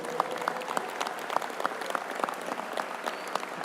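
A conference crowd at a 100 Black Men gathering applauds in a large room, a steady wash of many hands clapping with distinct individual claps popping out, heard at a moderate distance and fairly quiet.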